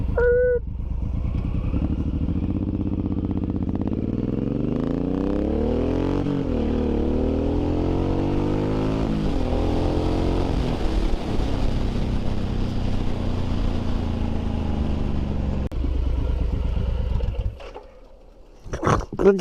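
A Suzuki M109R motorcycle roars loudly and close up while riding, its engine climbing and dropping through repeated gear changes, then easing off near the end.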